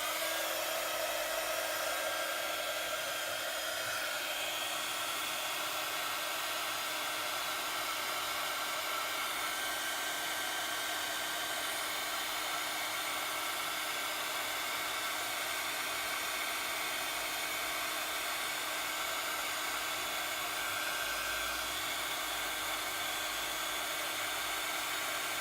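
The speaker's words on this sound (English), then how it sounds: "And then I'll just get my heat gun and heat it up." A heat gun blows a steady, hissing roar of hot air without a break, constant in level and fairly quiet.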